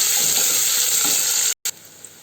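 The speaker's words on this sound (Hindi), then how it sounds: "दूटा हम मध्यम आकार के प्याज में चलिए अपन लाल हो तो हम प्याज के भूज लेबे" Medium-sized onions sizzle in a hot pan for bottle gourd sabzi, a bright, steady frying hiss that drops out abruptly, returns for a moment, then fades to near silence.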